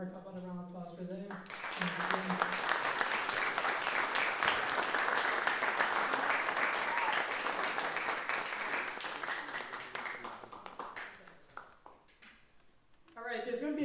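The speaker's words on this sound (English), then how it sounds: "How about a round of applause for them?" A music festival audience breaks into sustained, dense applause for the technical crew, holding steady for several seconds before tapering off, with a voice speaking before and after the clapping.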